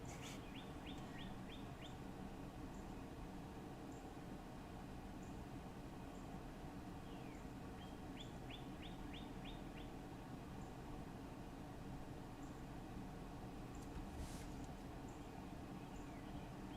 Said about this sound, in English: Can you hear the bird outside the window?